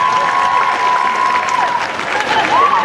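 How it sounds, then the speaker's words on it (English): Audience applause and cheering at a live stage show, dense clapping from a crowd with a whistle or shout riding above it and some voices mixed in. "Give them a big round of applause,"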